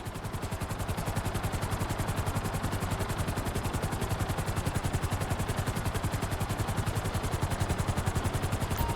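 Helicopter hovering in GTA 5, a loud, close, rapid rhythmic rotor chop pulsing evenly and continuously throughout over a dense engine roar, with no pauses.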